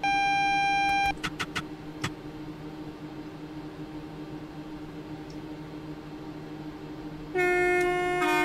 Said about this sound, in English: train horn passing through at 10 PM at night